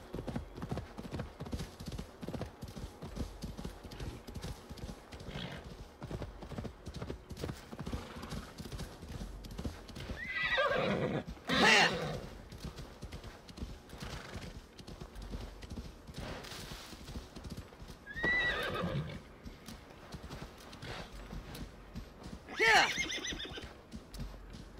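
A horse in Assassin's Creed Valhalla trots through a dense forest, steady clip-clopping hooves throughout with several neighs and whinnies, and someone talking faintly in places.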